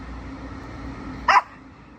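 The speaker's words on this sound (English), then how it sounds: "Apart from that bloody dog." A single short dog bark in the distance, a brief burst rising above a steady low background hum.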